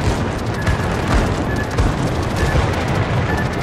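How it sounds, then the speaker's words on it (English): Anti-aircraft guns on a warship in World of Warships fire steadily, producing a loud, continuous barrage of rapid booming shots layered over a heavy rumble of battle. "I'm going to have my AA gun crews target the one that's dropping last."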